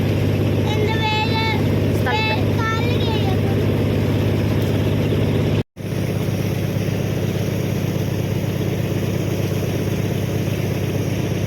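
A boat engine drones steadily while cruising on Dal Lake in Srinagar near the Hazratbal shrine; a loud, constant low hum continues across a brief cut, with a voice speaking briefly early on.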